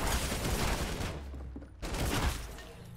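Assault rifle fire in the video game Fortnite, a dense burst of gunfire that breaks off briefly mid-clip, then starts again loud and close.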